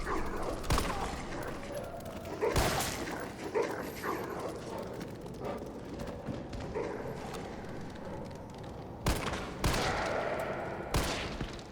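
Doberman dogs bark in Resident Evil 3 Remake, with sharp bursts breaking out at several points over a busy game soundscape of gunfire and rumbling ambience.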